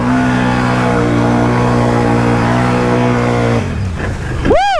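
A Can-Am Outlander ATV engine revs hard and steady while running through shallow water, a loud close drone that cuts off near the end, followed by a brief rising whoosh.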